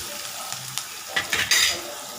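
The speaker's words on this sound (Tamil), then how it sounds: "இது வெங்காயம் நல்லா வதங்கணுங்க." Onions frying in a pan while being stirred, a steady sizzle with several close scraping strokes of a utensil growing louder near the end, no voices.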